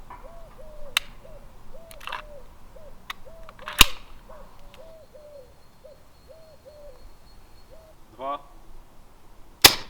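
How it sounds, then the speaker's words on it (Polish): A sharp gunshot fired into the ground at a staged duel cracks out against a steady background of repeated owl hoots, followed near the end by another abrupt crack. "czy w związku z tym, że pan Raszewski wystrzelił w ziemię, otrzymał pan żądaną satysfakcję?"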